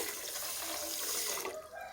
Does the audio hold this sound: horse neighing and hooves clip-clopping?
no